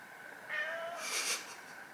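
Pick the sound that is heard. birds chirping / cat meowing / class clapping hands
cat meowing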